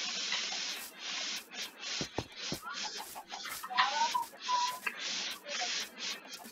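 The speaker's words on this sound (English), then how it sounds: "Look at all these chickens." Chickens cluck in the Minecraft video game, a series of short choppy bursts and a few brief squawks over a hissy background, at moderate volume with no talk.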